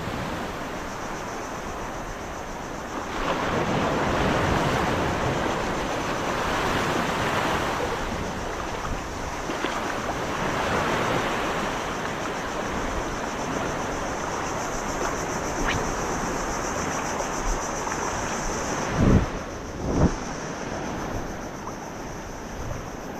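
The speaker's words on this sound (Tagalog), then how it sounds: "medyo malakas talaga ang alon mga master oh" Heavy surf from storm-churned ocean waves crashing continuously on a shore after a typhoon, a steady loud roar with wind buffeting the microphone and a couple of sharper bumps near the end.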